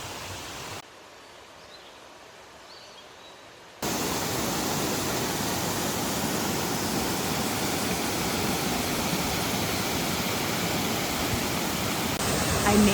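Rose River Falls in Shenandoah National Park, a steady broadband rush of falling water close by, briefly quieter at first and then loud and continuous, with no talking.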